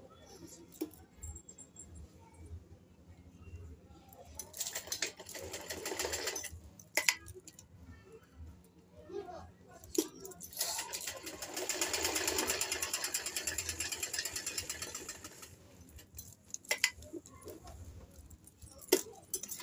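Domestic sewing machine stitching a suit, heard as short whirring runs of needle clatter that start and stop, with small mechanical clicks between them and faint background hum.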